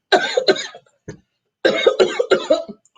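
Harsh coughing comes in two bursts of several quick hacking coughs each, close and loud, with a brief pause between.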